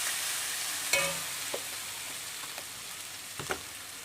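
Spice paste with green chilli and chilli powder sizzling in a pan for a vegetarian lunch dish, a steady fry hiss broken by a few sharp scrapes and taps of a spatula, no voices.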